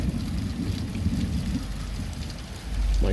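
Heavy rain pours steadily during a February thunderstorm, a loud, continuous hiss and low rumble close by, swelling slightly near the end with no voices.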